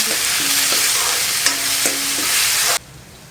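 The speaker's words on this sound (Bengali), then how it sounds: "তেলটা গরম হয়ে আসলে দিয়ে দেব অড়হর ডাল" Washed arhar and masoor lentils hit hot oil in a pan, giving a loud, hissing sizzle that runs steadily, then cuts off abruptly near the end, with no voices.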